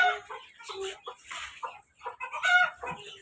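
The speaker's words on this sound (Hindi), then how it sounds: "वो देखो मुर्गा अभी तक बहुत शोर डाल रहा है" Rooster and chickens clucking and squawking in short irregular bursts, fairly close and moderately loud, with no talk over them.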